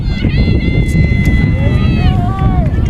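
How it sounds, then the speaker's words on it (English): Steady low rumble of wind buffeting a microphone outdoors at a high school women's rugby state championship match, with faint voices and other outdoor sounds mixed in throughout. "Oh boy. It's windy."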